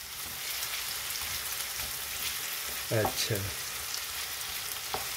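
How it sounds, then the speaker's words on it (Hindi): Onions and chilies frying with potatoes in a pan give a steady close sizzle, with a few scrape-like stirring strokes near the end and a brief spoken word over it. "तो अब ओनियन और चिलीज इसमें डालेंगे 5 मिनट के लिए इनको भी पोटैटो के साथ फ्राई करेंगे"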